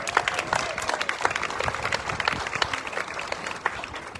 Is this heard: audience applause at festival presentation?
yes